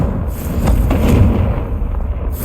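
The Confringo fire spell explodes in the Hogwarts Legacy video game, a loud, deep booming blast with rumbling low-end that swells and lingers for a couple of seconds under game ambience.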